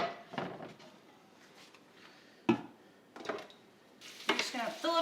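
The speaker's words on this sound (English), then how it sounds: "We've got our first pan of meatballs rolled, so let's go ahead and throw those into the skillet." Meatballs hit olive oil in a skillet with bursts of crackling sizzle, interleaved with scraping and clattering pan sounds at irregular intervals, the frying growing louder and busier toward the end.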